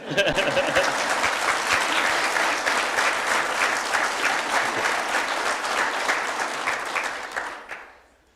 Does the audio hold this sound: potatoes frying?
no